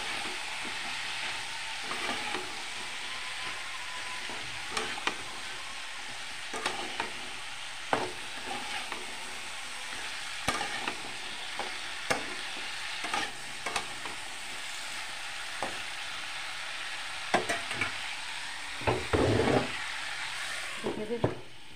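Salted hilsa fish head and Malabar spinach stirred in a pan, a steady sizzle with repeated scraping knocks of the spatula and a louder clatter near the end, close up with no talk.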